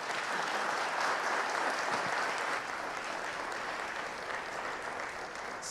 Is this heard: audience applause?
yes